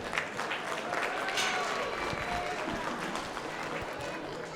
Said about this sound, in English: Let's give all these young people a big round of applause out here.